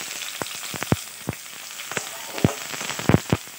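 Onions dropped into hot mustard oil tempered with five-spice and dried chilli, crackling in sharp irregular pops over a soft steady sizzle, close and fairly quiet.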